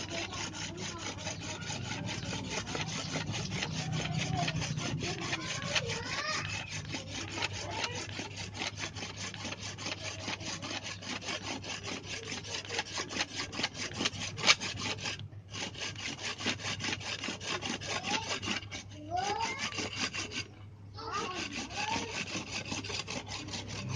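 Steady back-and-forth sawing through dense, hard wood for a pipe, a continuous rasping rhythm up close, with a few brief pauses between strokes near the end.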